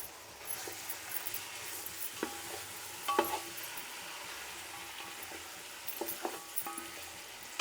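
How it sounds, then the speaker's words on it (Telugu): Chicken frying in a pot with ginger-garlic paste for Karnataka-style donne biryani: a fairly quiet, steady sizzle with occasional sharp clicks and scrapes of a spoon against the pot. "చికెన్ బాగా వేగాలండి"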